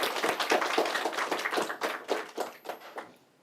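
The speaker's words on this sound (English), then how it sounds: "let's give us an applause, because you were good" A small audience at a pitch competition event gives a short burst of clapping for the participants, a few close hand claps that thin out and fade within a few seconds.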